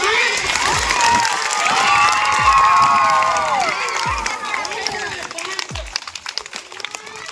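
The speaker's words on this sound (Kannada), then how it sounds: "ಒಂದು ಥ್ಯಾಂಕ್ಸ್ ಹೇಳ್ರಿ, ಚಪ್ಪಾಳೆ ಹಾಕಿ." Schoolchildren at a school meal event clap and cheer together, a dense crowd of small hands and shouts swelling in the middle and then thinning into scattered claps and voices.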